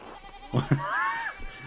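A single wavering sheep bleat in the video game Pentiment, moderately loud over quiet background ambience.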